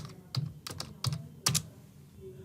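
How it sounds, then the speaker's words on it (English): Several crisp computer keyboard keystrokes tapped out at an uneven pace, four distinct clicks close to the mic in a quiet room. "I'm going to type pabbly.com."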